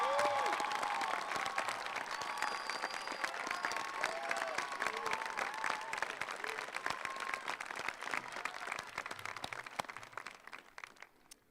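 A large commencement crowd at a 2017 graduation ceremony applauds for a kinesiology and nutrition professor, with dense, sustained clapping and a few scattered whoops that slowly thin and fade toward the end.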